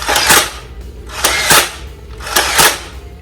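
An electric Nerf Stampede foam blaster fires three loud, sharp bursts about a second apart, each a harsh whirring rattle up close.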